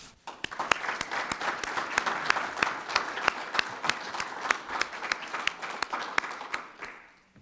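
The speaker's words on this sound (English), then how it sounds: "please join me in a round of applause for all those who helped put our ceremony together for this year" Audience applause at an awards ceremony, a dense steady wash of many hands clapping with sharp individual claps standing out, sustained for several seconds before tapering off.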